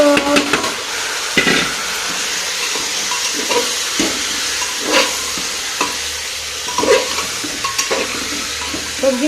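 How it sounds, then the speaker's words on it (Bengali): Vegetables with grated ginger fry briefly in a hot pan, a steady close sizzle broken by repeated scraping stirs and clatters, with no talk over it. "এগুলো বেশিক্ষণ ভাজবো না অল্পক্ষণ ভেজে নেব একদম সামান্যই"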